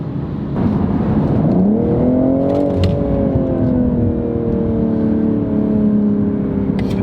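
A new BMW M2 engine revs up and accelerates, its exhaust note rising in pitch and then holding a strong, steady drone, loud and close.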